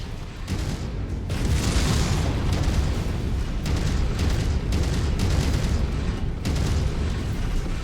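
An enemy mech blows apart in MechWarrior 5, a loud, deep explosion rumbling heavily for several seconds with rolling bursts and crackles layered through it.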